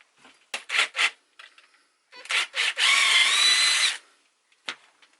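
A power tool removing bolts from electric skateboard trucks: several short close whirring pulses, then a sustained drill run of about a second and a half, ending with a final brief burst.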